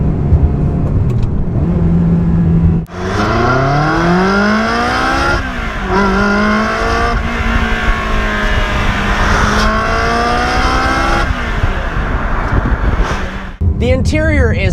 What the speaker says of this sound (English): there's nothing like the sound of a Ferrari V8